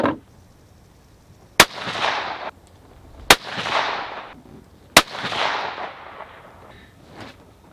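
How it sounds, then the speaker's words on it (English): Three sharp rifle shots fired through an EC Tuner muzzle brake, each a loud crack followed by a long echoing decay across an open range, spaced about one and a half seconds apart with a faint fourth report near the end. "let's just keep shooting"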